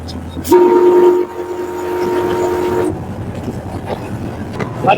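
A Sri Lankan train locomotive rumbles steadily, heard from inside the engine cab, while a horn blares with a sustained tone for a couple of seconds, followed by continued engine and rail noise.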